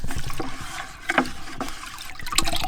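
Water sloshes and trickles as small leeches are scooped out of a bucket, with soft splashes and dribbles up close.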